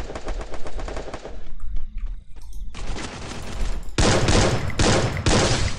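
Rapid automatic gunfire in the battle royale game Free Fire, played on a PC emulator, comes in dense, loud bursts with a short lull of scattered single shots midway and no talking.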